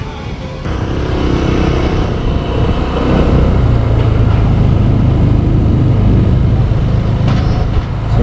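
A motorbike ride through the streets of Pattaya produces a loud, continuous roar of engine, wind and road rumble that holds steady the whole way, with no speech.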